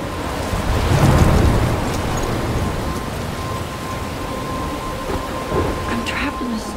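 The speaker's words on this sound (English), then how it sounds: "I'm trapped in a storm?" A thunderstorm near a lighthouse in the video game Life is Strange, a deep rolling rumble of thunder that swells early and fades into a steady wash of heavy rain, with a faint tone running through.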